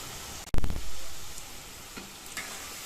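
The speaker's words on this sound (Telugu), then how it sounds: "స్టవ్ మీడియంలో పెట్టేసుకొని ఇలా వేయించేసుకోవాలి." Potatoes for aloo manchurian drop into hot oil on a medium flame, setting off a sudden loud burst of sizzling that settles into a steady frying hiss.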